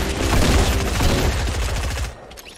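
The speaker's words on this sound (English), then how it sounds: "He's still shooting." Rapid bursts of automatic gunfire from a Fortnite match, loud and close, a dense continuous fusillade that cuts off abruptly near the end.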